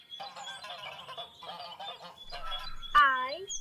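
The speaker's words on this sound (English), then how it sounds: "It's a green goose, Ben." A cartoon goose honks once, loud and close, right after a stretch of bright, chirpy background music in a children's colours-and-letters lesson.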